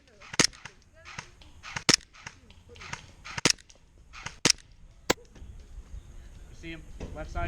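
Airsoft gunfire cracks out at an outdoor field, several sharp single pops spaced a second or so apart with background chatter and movement between shots.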